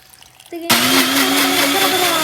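A kitchen mixer switches on abruptly and whirs loudly at a steady high pitch, blending orange juice with ice and water, after a moment of quiet.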